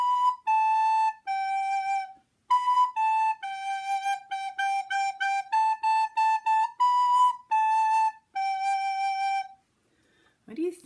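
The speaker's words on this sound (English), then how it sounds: "So if I played Hot Cross Buns on your soprano recorder, it would sound like this." Hot Cross Buns played on a soprano recorder: clear, pure high notes in the simple three-note tune, each held briefly with small gaps between phrases, played solo and close.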